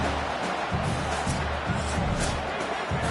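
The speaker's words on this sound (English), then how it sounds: "Listen to this crowd just shaking the girders of this place, trying to help their defense" A football stadium crowd roars loudly and continuously during a defensive stand near the goal line, a dense wall of cheering with thumping low rumbles throughout.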